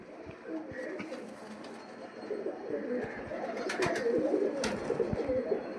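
Pigeons of an old breed, an older bird shown as the best of a fancier's ten, coo steadily in low rolling murmurs amid light loft noise and occasional sharp clicks, growing slightly louder toward the end.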